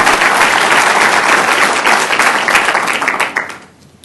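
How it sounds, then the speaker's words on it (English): An audience at a mayor's State of the City address gives the city council a round of applause, a loud, dense wash of clapping from a large crowd that fades out in the final half second. "Give the council a round of applause for having adopted a plan."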